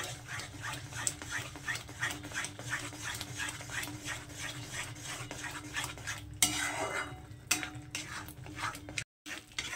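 Banana stem paste being stirred and sautéed in a pan, with rhythmic scraping strokes repeating steadily, close and moderately loud, and a few brief knocks of the utensil against the pan.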